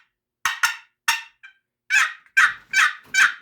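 Wooden box call worked to imitate a wild turkey for hunting, a run of loud raspy yelps in uneven bursts, close and sharp with no voices.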